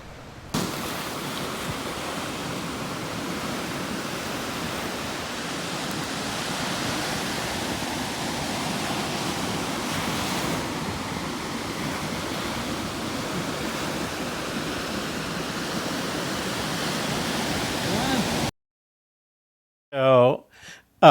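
Ocean waves breaking on Mungo Beach in Myall Lakes National Park, New South Wales, a steady, loud roar of surf and wash that runs continuously for many seconds, then cuts off abruptly, followed by a brief burst of voice at the end.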